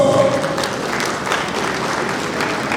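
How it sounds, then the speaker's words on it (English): An audience at a school of governance commissioning ceremony at a Nigerian university claps in a steady, fairly loud round of applause, many hands blending with faint crowd murmur underneath. "Please, a round of applause."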